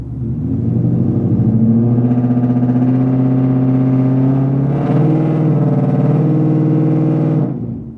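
A Ford Mustang GT engine revs hard and holds high at the drag-strip launch, a loud steady rumbling drone that climbs in pitch midway before cutting off near the end.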